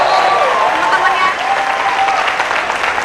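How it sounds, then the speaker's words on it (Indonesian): A studio audience applauds on a TV talk show, with sustained close clapping from a crowd while a host speaks over it. "One applause for Zambro."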